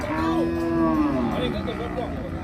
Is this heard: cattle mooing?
yes